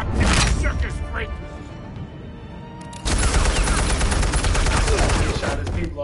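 Gunfire in the Telltale Batman video game, a steady rattle of shots that swells into a louder, denser burst halfway through, with voices and game sounds mixed in.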